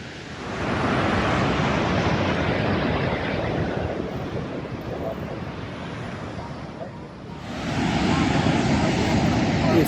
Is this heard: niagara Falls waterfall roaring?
yes